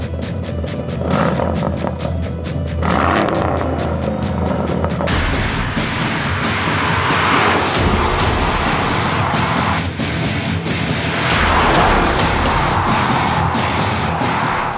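A 2019 Aston Martin Vantage with a seven-speed manual gearbox driven hard, the engine droning loud and steady with shifts and surges in pitch, no talk.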